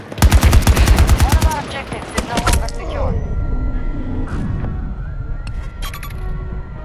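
Rapid automatic gunfire from a sentry gun in the video game Battlefield 2042: a loud, dense burst for the first couple of seconds, then fading into scattered distant shots and clinks amid battle noise.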